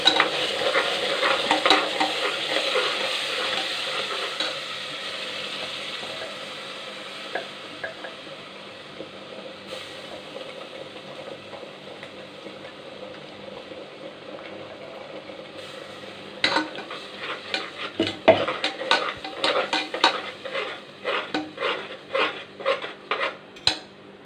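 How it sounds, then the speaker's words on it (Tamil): Ground masala paste frying with sautéed onions in oil for chicken donne biryani, stirred with a metal spoon; a soft sizzle at first, then repeated scraping and clinking stirs against the pan grow louder toward the end. "இப்போ நம்ம அரைச்சி வச்சுருக்க மசாலாவை போட்டுக்கலாம்."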